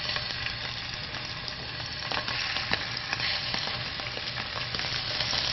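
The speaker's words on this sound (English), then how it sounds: "place each scallop individually into the hot oil" Scallops frying in hot oil give a dense, steady, loud sizzle with faint crackles scattered through it, heard up close with no one speaking.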